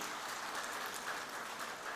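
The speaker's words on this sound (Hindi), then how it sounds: "जरा जोरदार तालियां हो।" Audience applause at the grand launch event of the Bharat News24 news channel, a faint, steady wash of clapping with no voices over it.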